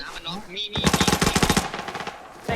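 Automatic gunfire in the shooter game Arena Breakout, a rapid loud burst of evenly spaced shots that rattles on for about a second after brief game sounds, then fades.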